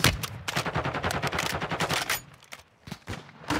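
Rapid bursts of sniper and automatic gunfire in Warzone 2.0, a dense string of sharp cracks for about two seconds, then sparse scattered shots.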